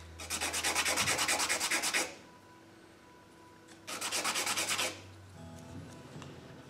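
Two short bursts of brisk rhythmic scrubbing as an 80 grit sandpaper block rubs wooden wall framing studs, close and clear, with quiet handling noise between and after the strokes.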